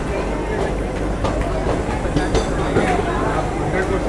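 Ahimsa Express passenger train (22186, Pune–Ahmedabad) pulling into Kalyan Junction at night: a steady rumble of rolling railcars with faint clicking over rail joints, continuous and close, with voices murmuring in the background.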